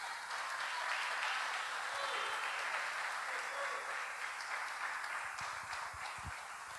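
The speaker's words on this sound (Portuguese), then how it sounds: "Você pode aplaudir ao Senhor por isso?" A church congregation applauds steadily throughout, a dense wash of clapping that stays even in strength from start to finish.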